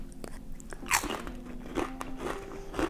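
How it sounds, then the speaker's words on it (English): Lentil and chickpea crisps crunch sharply under close biting and chewing, a few crisp bites followed by steady crackly mastication, with faint background hum and no talking. "Okay, and the lentil and chickpea crisps."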